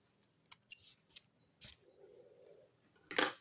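Scissors snip through cross-stitch canvas fabric in several sharp close cuts, a couple of quick snips followed by a pause and a final louder cut, with no talking.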